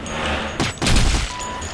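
Explosions in the BlackShot online shooter during a clan war: two loud broadband bursts near the middle, the second heavier and longer, over steady game background noise.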